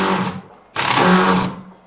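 A cordless drill drives 60mm screws into a metal tank, giving two loud bursts of whirring motor noise split by a short pause, the second longer and steadier.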